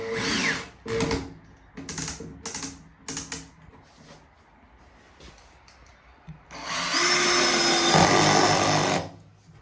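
A power drill drives a large 5.70 screw in short bursts at first, several quick whirring pulses with brief gaps, then one long, louder sustained run as the screw bites in; no talking.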